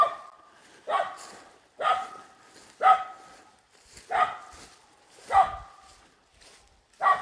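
A dog barks repeatedly in a steady rhythm, roughly one bark per second, fairly close and loud, with quiet gaps between barks.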